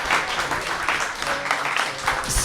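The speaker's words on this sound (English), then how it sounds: "Give you a round of applause for everyone at the Scum and Villainy Cantina" Audience applause at the Scum and Villainy Cantina, a steady wash of clapping from a crowd that carries on evenly throughout without any talking over it.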